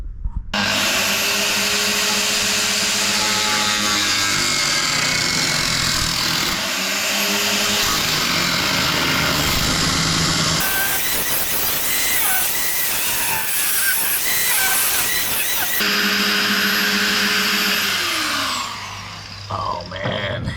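A power sander with 80 grit paper grinds rust off the body of a 1957 Volkswagen oval window Beetle, a loud continuous whine and rasp that shifts pitch as the load changes, briefly rougher mid-way, then spins down at the end.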